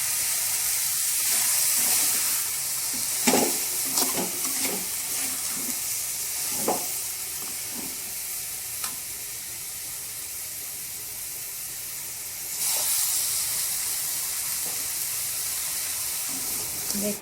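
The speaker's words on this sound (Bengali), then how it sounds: "চিনিটা দেওয়া হয়ে গেছে, এবার আমি নেড়ে নিচ্ছি" A pan of sugared raw mango murabba sizzles and hisses steadily while a spoon scrapes and stirs it, with intermittent clinks and knocks scattered across the close, continuous bubbling.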